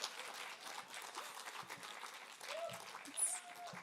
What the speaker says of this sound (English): You can clap whenever you want,